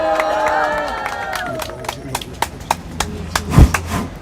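Applause at an outdoor party press conference in Daegu, scattered claps and cheers building into a burst of clapping near the end, over lingering crowd voices and a fading amplified announcement.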